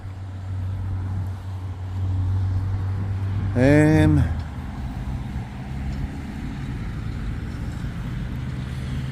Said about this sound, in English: Obviously I'm on a roundabout, so you've got cars coming from every which way but loose.